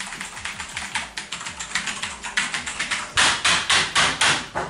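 Rapid typing on a computer keyboard at home, a close, steady run of crisp keystrokes that turns louder and heavier in the last second and a half.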